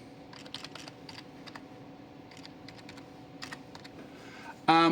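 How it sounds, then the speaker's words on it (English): Typing on a computer keyboard at a laboratory instrument, heard as quick bursts of light, close key clicks in an irregular rhythm over a quiet hum, ending in a brief louder clatter. "what we're going to type in here at the top is polystyrene"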